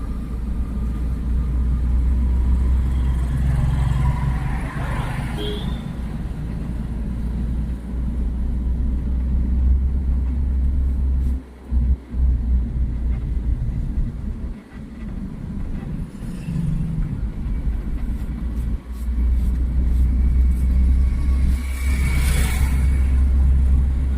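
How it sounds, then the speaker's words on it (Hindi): A car in second gear moves along during a driving lesson in Lucknow, with a steady low engine rumble and road noise from inside the cabin that rises and falls gently as it speeds up. "ज़्यादा स्पीड मत भगाओ, उतना स्पीड बढ़ाओ जितना कि आप स्टीयरिंग को कंट्रोल कर लो"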